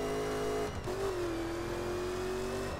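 Corvette Stingray engine in The Crew racing game revs steadily with a rising, sustained tone, loud and close, broken by a brief gear-change dip before pulling on.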